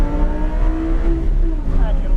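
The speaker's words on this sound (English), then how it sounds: "we start giving it some power all the way up those yellow cones up there" A powerful sports car, a Lamborghini or GT500, accelerates hard on a track, its engine note climbing steadily and loud throughout, with a person talking over the roar.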